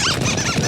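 Cartoon squirrels in the animated series Ben and Holly's Little Kingdom let out a quick flurry of high, chirpy squeaks over a loud, busy background of music and effects.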